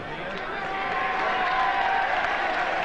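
A rugby league crowd at a 1998 Parramatta Eels versus Manly match cheers as a player returns to the field, a steady, broad roar of applause and shouting heard from a distance, with a commentator talking over it.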